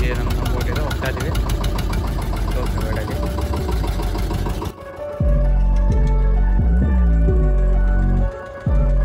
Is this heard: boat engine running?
yes